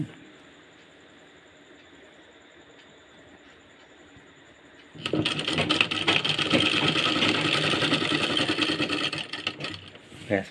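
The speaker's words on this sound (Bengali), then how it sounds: "এইখান থেকে আমরা সেলাই শুরু করব" An electric sewing machine stitches a kameez. After about five seconds of quiet room tone it starts with a dense, fast mechanical whir, runs steadily and close for several seconds, then stops near the end.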